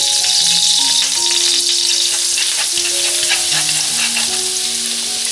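Scallion and garlic hit hot oil for a stir-fry, giving a loud, dense sizzle with crackling spits and the scrape of stirring running continuously.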